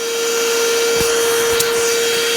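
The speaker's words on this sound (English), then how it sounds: "So let's go ahead and vacuum it out." A vacuum cleaner runs steadily on power from a GoFort 1000W solar generator while cleaning out a tent, a loud continuous whine with a strong steady hum and faint brief knocks.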